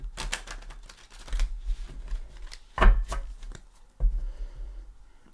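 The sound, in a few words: shuffling Lustrous Tarot cards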